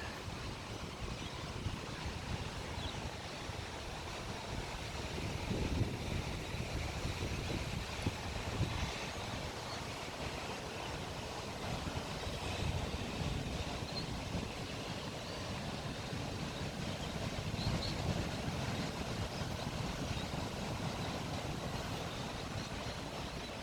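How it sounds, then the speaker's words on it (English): Blustery wind and breaking surf at North Beach, Wollongong, Australia, a steady, broad roar of waves mixed with wind buffeting the microphone, continuous and fairly loud without speech. "It's getting pretty windy, but it's not raining yet."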